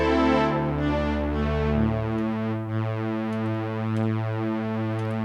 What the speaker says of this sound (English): Obviously, we got some Oberheim strings. It's Matrix 12.